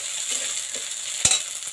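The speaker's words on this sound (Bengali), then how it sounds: "লঙ্কা গুঁড়ো, জিরে গুঁড়ো, ধনে গুঁড়ো, ভালো করে ভেজে দেবো।" Chili, cumin and coriander powders fry in a pan for a fish kalia, giving a steady close sizzle with one brief knock of stirring and no voices.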